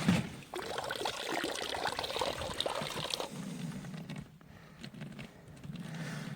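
Water from a village fountain pouring into a jug, a steady splashing stream that shifts to a lower, fuller gurgle partway through as the container fills, close and alone.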